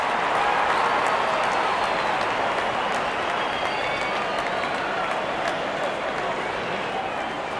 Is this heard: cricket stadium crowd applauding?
yes